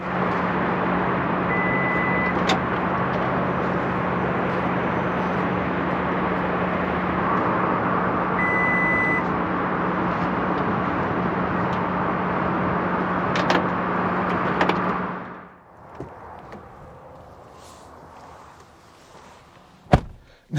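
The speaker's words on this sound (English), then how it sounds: "this thing is powered both taking it down and putting it back up" Powered tailgate on a 2024 Toyota Tacoma TRD Pro: a long, steady motor whine with a faint beep tone runs for about fifteen seconds, then cuts off, followed by quieter movement and a sharp thunk near the end.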